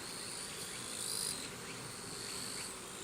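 Honey bees in an open hive hum with a dense, continuous buzz, close and steady with slight swells in loudness and no one talking.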